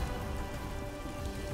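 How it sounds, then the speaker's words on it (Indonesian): Heavy rain pouring steadily, a dense even hiss of drops hitting surfaces that continues without pause and with no voices over it, as in a scene from an Indian drama series. "Hujan semakin deras."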